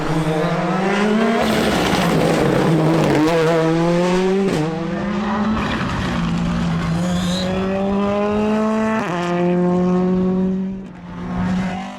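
Rally cars and buggies race flat out on a stage, engines loud and close with rising and falling revs through gear changes and a brief skid, continuous throughout with no talk.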